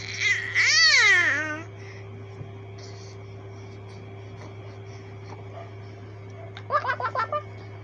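A five-month-old baby gives a loud, warbling babbling burst with rising and falling squeals. After a quiet stretch over a steady hum, a short run of babbling syllables follows near the end.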